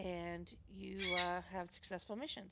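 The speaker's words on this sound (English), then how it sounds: "my bird decided that she wanted to be joining in" A pet bird squawks repeatedly in the background while a person talks over it, the harsh calls faint and intermittent beneath the speech.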